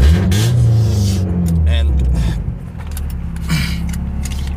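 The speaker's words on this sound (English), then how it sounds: "show you guys the race car real quick" Race car engine idling close by, a deep loud rumbling drone with slight revving swells, while someone talks over it.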